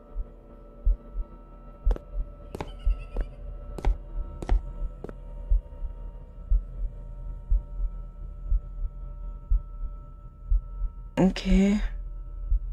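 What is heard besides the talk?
heartbeat sound effect in the video game I Won't Forget Hue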